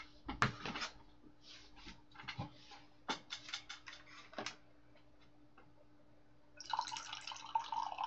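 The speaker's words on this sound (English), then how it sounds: "I'm gonna pour myself some more coffee here" Coffee poured into a cup: faint scattered clinks and taps, then a steady splashing pour near the end, heard close and quiet with no talking.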